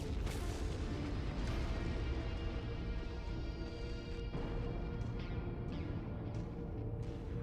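In the video game MechWarrior 5: Mercenaries, loud booming explosions and heavy weapon blasts roll over continuous rumbling battle noise, with several sharp impacts spread across the stretch.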